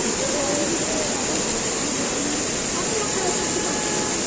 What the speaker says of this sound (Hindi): फिर हम गए ऊपर और वाटरफॉल पहुँच गए।